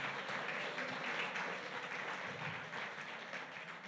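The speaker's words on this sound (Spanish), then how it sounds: "Dele un fuerte aplauso al Señor porque allá vamos a estar por la eternidad." A church congregation applauds together in a sustained, even wash of clapping at moderate level, with faint voices mixed in.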